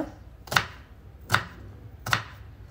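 A knife finely chopping onion strikes a board three times at an even, unhurried pace, each cut a crisp, close thunk with quiet gaps between.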